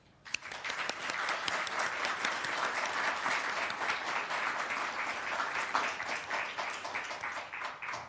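Audience applause at the close of a workshop session thanking the panellists, steady dense clapping from many hands sustained for several seconds, fairly near and even in level.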